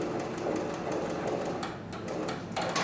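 An industrial sewing machine stitches a bag, running in steady continuous bursts with a brief easing as the work is pivoted ninety degrees using the knee lifter, close and fairly loud with no voices.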